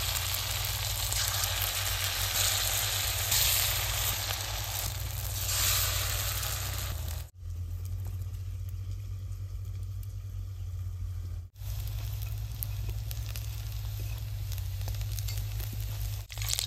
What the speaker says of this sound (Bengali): এইরকম করে আমি সবচেয়ে বড়া বাইজে নেবো